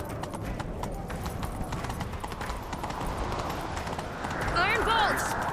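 Horse hooves galloping in the video game The Witcher 3, a steady rhythmic clip-clop running throughout under a dense game soundscape, with louder activity and a tonal swell near the end.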